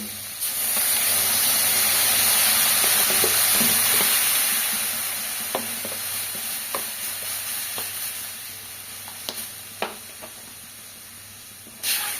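Water hits a hot pan of beet and potato curry tempered with mustard, ginger and green chilli, setting off a loud, close hissing sizzle that gradually settles into quieter bubbling with a few light clinks.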